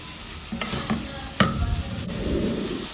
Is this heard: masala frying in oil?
yes